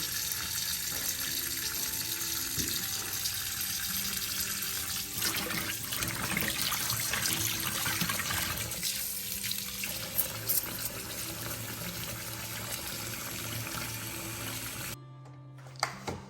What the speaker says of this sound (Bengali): মাংসগুলো ধুয়ে নিচ্ছি